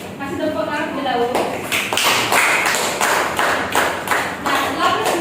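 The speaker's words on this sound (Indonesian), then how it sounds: "masih tepuk tangan terlebih dahulu." In a classroom, students clap for a group after its presentation; a voice speaks briefly before a run of steady, close claps that continues to the end.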